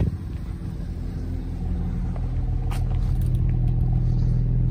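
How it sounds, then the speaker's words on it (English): A 2017 Audi S4 3.0 V6 Tiptronic quattro in dynamic mode with its exhaust valves open: a deep, steady exhaust rumble, close and fairly loud, swelling slightly as it goes with no speech over it. "If I just put the car in dynamic, you just hear the exhaust valves opening up."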